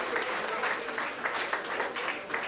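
Applause from the audience at a Sunday football league awards night as the best midfielder award is given, dense continuous clapping from a hall crowd.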